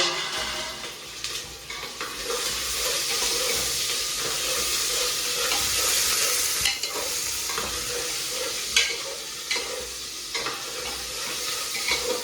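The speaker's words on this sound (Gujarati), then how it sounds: "આપણે ખીચડી વઘાર દઈએ આજે તો." Continuous hot sizzling as khichdi (rice and lentils) is tempered in a pot, with a spoon scraping and stirring and occasional clanks against the metal.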